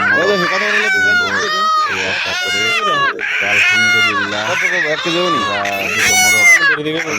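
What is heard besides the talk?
ducks and chickens at a poultry market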